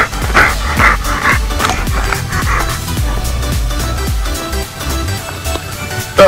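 A pitbull digging for prairie dogs makes excited yips, whimpers and short barks mixed with scrabbling, close and fairly loud, in a repeated busy rhythm throughout.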